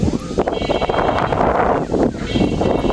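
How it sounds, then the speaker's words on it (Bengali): Morning wind blows across open water in a village while a boat gathers water lilies, heard as a loud, close, gusting rumble buffeting the microphone throughout. "বাতাস ছাড়ছে রে সুন্দর"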